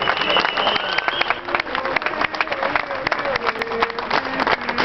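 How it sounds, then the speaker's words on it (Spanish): A crowd applauds at the San Lorenzo football club's presentation of Romagnoli, with continuous clapping and scattered cheers while a loud announcer's voice speaks over it. "El aplauso fuerte para"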